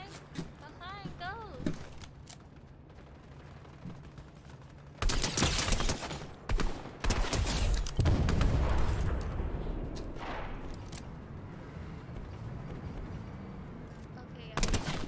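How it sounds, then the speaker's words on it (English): Video game gunfire, with loud bursts of rapid shots in clusters through the middle stretch and a final burst at the end, mixed with players talking. "Someone's shooting, someone's here!"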